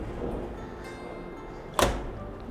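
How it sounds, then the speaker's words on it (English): The drum door of a Flint Group nyloflex NExT flexo platemaking imager closes with a single sharp thunk near the end, over steady machine hum. "The drum door can be closed."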